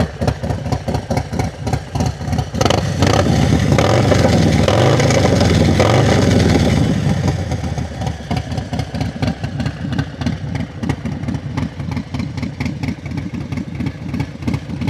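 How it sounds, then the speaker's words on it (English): A Harley-Davidson Low Rider ST motorcycle idles nearby, then its engine is revved hard for a few seconds and the roar swells before dropping back to a steady, rumbling idle. "I'll give it a bit of a rev."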